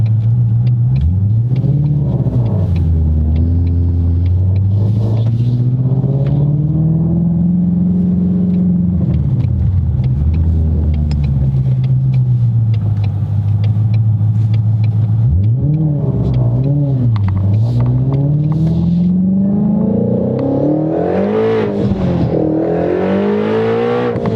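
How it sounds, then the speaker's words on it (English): A 2019 Shelby GT350 800R twin turbo roars hard under full boost, its loud engine note climbing through several gear pulls with brief dips at each shift, heard up close from inside the car without any talking. "You want to go out on full boost right off the hit?"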